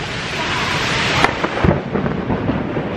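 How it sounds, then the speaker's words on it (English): Heavy thunderstorm at EPCOT with steady rain pouring all around a covered spot, a loud crack of thunder about halfway through followed by rumbling, all close and dense. "I was in a pretty crazy lightning and thunderstorm then, but this is even crazier."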